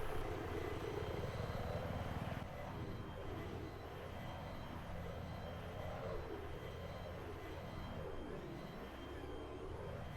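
Helicopter in the video game Battlefield 3, a loud continuous rotor and engine roar with a sweeping, wavering pitch as it maneuvers, alone without speech.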